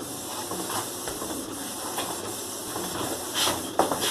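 A printer slowly feeds and prints on coated film, producing a steady airy hiss with soft mechanical shuffles and one louder clack near the end.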